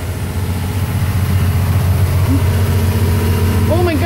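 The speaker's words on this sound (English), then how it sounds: "Oh my gosh, I think that's the engine room." A ship's engine room below deck runs with a steady, loud low drone throughout, continuous and close, with a brief tonal whine near the end and people talking over it.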